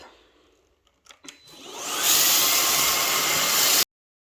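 A few soft clicks and knocks, then a Shunzao Z11 Max vacuum cleaner on suction level 3 roars up to a loud, steady suction hiss that cuts off abruptly.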